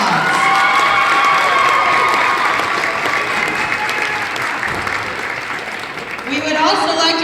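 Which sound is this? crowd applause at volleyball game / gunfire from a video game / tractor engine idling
crowd applause at volleyball game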